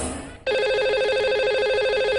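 A telephone rings for a lucky caller on a Hindi TV call-in show, a steady electronic ring tone beginning abruptly after a brief moment of room sound and continuing loudly without any talking.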